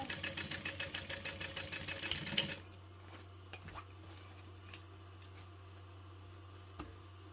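A sewing machine top stitches a beauty bag in a fast, even run of mechanical clacks that stops abruptly after a couple of seconds, leaving quiet room hum with a few faint handling taps.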